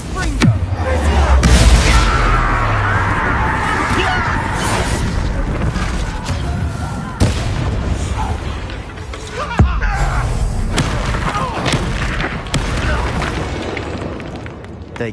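A Confringo spell explosion in the Hogwarts Legacy video game gives a heavy, booming blast up front, followed by rumbling debris, sharp bangs and game dialogue over the top.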